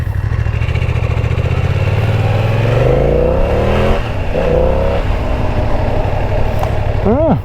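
BMW F900XR motorcycle engine pulling hard on a motorway, a loud close droning roar with rising pitch as it accelerates under steady wind rush, easing off briefly before climbing again.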